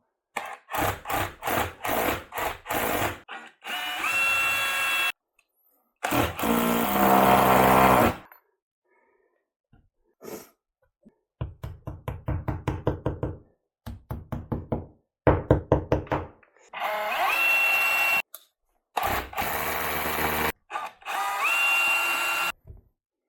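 Repeated bursts of a hammer drill boring in while fitting a radiator, loud and close, with rapid pounding rattles broken by short silences between runs.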